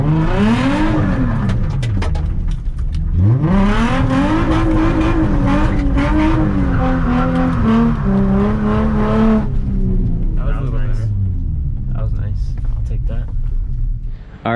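A Nissan 350Z drift car with a freshly installed straight pipe exhaust revs loudly up and down several times, a raw, close engine roar rising and falling for about ten seconds before dropping away to a quieter idle.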